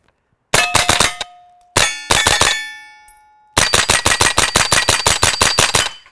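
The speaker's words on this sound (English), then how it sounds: "the sound of the bullets hitting the steel" Bullets strike steel targets at an outdoor shooting range, each hit a sharp metallic clang with a ringing tail, in three rapid bursts of about five, six and ten impacts fired in quick succession, loud and close.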